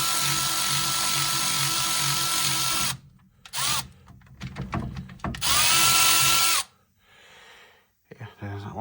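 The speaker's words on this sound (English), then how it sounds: "I'll ratchet them off now with this" A power ratchet loosens half-inch brake caliper bolts on a Land Rover Defender Td5 double cab in two loud, sustained whirring bursts, separated by clicks and handling noise, with a short buzz near the end.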